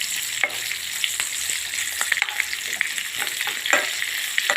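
Onions fry in a pan for a paneer curry with fennel and cumin, a close, steady sizzle broken by frequent clicks and scrapes of stirring.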